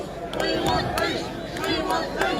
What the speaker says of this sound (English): the crowd is chanting, "We want peace."